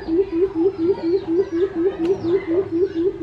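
A quail calls close by in a fast, regular series of about fourteen short, bright, identical piping notes at a steady pulse, loud and clear over faint background noise.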